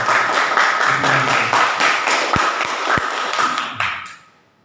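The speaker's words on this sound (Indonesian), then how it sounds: "Sekali lagi tepuk tangan untuk kalian semua." Students in a school classroom clap briefly, a scattered burst of hand claps with a few sharper taps standing out, trailing off into quiet at the end.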